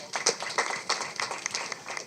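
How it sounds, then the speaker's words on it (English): Audience applause at a live forum on women's financial inclusion in Tanzania, a dense patter of many hands clapping close by, steady for about two seconds. "a big round of applause to Julia and Neil"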